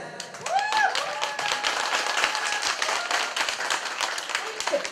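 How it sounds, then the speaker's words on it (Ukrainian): Audience applause at a Ukrainian family-joining wedding ceremony: dense, steady clapping from a gathered crowd that keeps going for the whole stretch, with a brief voice near the start. "Якщо будете згідні з тим, що я кажу, реагуйте, будь ласка, оплесками."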